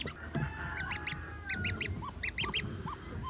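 A mother duck on a farm quacks in short repeated bursts beside newly hatched ducklings, the calls close and fairly loud over a low background rumble.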